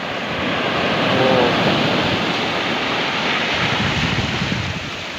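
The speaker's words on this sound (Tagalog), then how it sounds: "Laki ng alon na yan, oh." Large ocean waves surge and wash continuously along an island shore, a steady broadband roar with wind buffeting the microphone, close and fairly loud with no voices.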